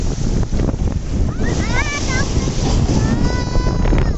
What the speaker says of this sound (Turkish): Şimdi dalga gelecek.